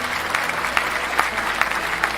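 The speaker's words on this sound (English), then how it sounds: "Round of applause from me." Over steady background noise, a podcast host gives a small round of applause with a handful of distinct claps spaced at a relaxed, even pace.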